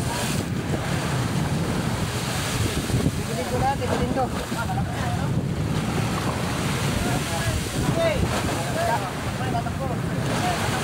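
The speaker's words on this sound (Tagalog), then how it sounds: "malaki ang alon talaga oh" Big ocean waves surge and wash continuously around a fishing boat at sea beneath steady wind buffeting, with people talking and calling out over the rough water.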